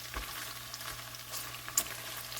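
Bacon fries in a pot over high heat, a soft steady sizzle with occasional scrapes and clinks from stirring, fairly quiet and close.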